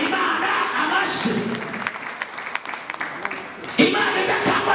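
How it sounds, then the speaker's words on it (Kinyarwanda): A church congregation applauds, a dense patter of many hands clapping at moderate distance, with a voice speaking over it, then the clapping swells again near the end. "Bakomera Imana amashyi, bakomera Imana amashyi"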